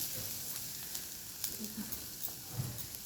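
Bottle gourd peel frying dry in a pan over low heat, giving a soft, steady sizzle with a few light stirring scrapes, faint and close with no talk.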